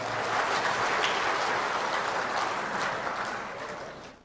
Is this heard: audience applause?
yes